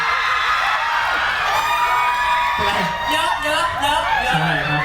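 A crowd of fans shrieks and cheers for celebrity guests at a hospital's 60th anniversary event in Kanchanaburi, Thailand, in loud, overlapping bursts, with high excited screams rising and falling throughout.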